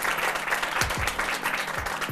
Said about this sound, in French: je vous demande encore une fois d'applaudir pour elle